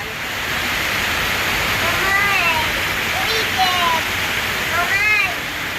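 Heavy, steady rain hisses throughout, heard from a balcony, loud and close, with a few faint bird chirps rising above it now and then.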